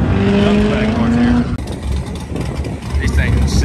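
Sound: supercharged 427 race car engine

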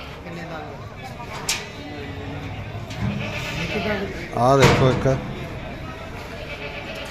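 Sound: Beetal goats bleating at goat fair

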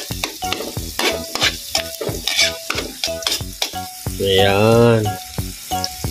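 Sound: sautéing garlic and onion in a pan

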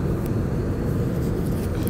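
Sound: inside an airplane cabin during flight

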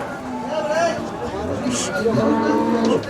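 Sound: cow mooing

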